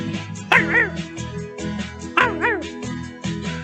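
Over light music, a voice imitates a dog with two sharp yappy barks, about two seconds apart.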